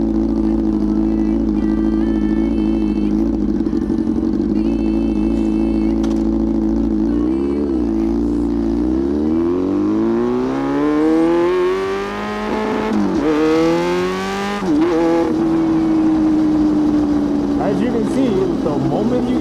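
A loud Yamaha R6 sport motorcycle, with an engine that runs rich down low, roars up close. Its steady high-pitched drone climbs through rising revs, shifts, then settles into a sustained scream.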